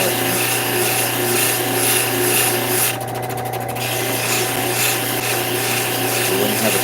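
Lapidary grinding wheel at 280 grit shaping a thin, wide stone cabochon; a continuous loud whirring hum with steady rasping contact noise, briefly dipping into a pulsing flutter midway before resuming evenly.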